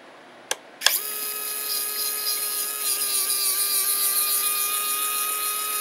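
Wingspan retract landing gear units on an RC airplane, cycling on a bench via a receiver: two brief clicks, then a steady, fairly quiet high-pitched electric servo whine that runs continuously at close range with no talking.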